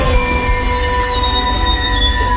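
A passenger train braking to a stop, with steady high-pitched wheel squeal ringing over a heavy rumble of rolling cars, loud and close throughout.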